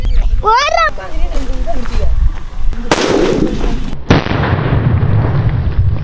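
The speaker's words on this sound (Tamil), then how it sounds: "இது வந்து நாலு இன்ச்சு ஜோக்கர் சூப்பராக வெடிக்கும்" A loud four-inch Joker nattu vedi firecracker from Valangaiman blast bursts suddenly and crackles away, following a voice talking and a whistling sound.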